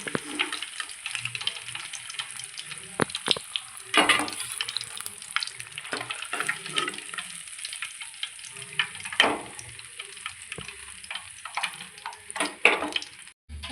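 Fish frying in a pan, a steady crackling sizzle with scattered sharper pops and scraping, fairly close and moderately loud, with no talking.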